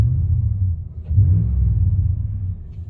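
A RAM 1500 Hemi pickup with a Borla exhaust and its cutout closed idles with a deep, muffled rumble, then swells into a short rev that settles back to a steady low drone.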